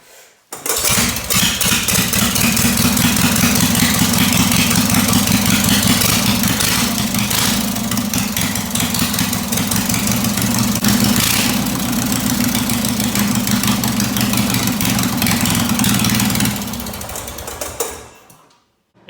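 A racing lawn mower engine fitted with a rigged pull starter fires up and runs loud and close with a steady buzzing putter, holding for about fifteen seconds before winding down and cutting out.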